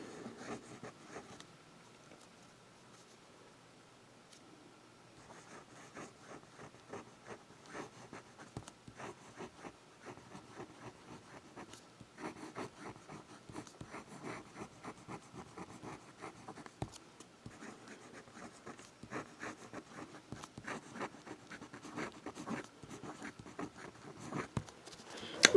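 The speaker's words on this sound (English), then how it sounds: "And we'll do some writing." A Hero 1515 fountain pen nib writing on paper, faint close scratching and tapping strokes in irregular bursts over a long stretch, quiet throughout with no talk.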